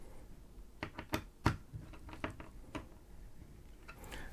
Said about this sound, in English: tighten up both screws until they're completely snug